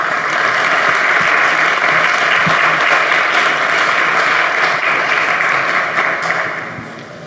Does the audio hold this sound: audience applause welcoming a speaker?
yes